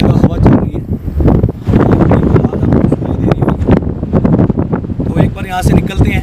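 Wind gusting across the abandoned Kuldhara village in India as the weather worsens, buffeting the microphone in a steady rough rumble beneath continuous nearby talking.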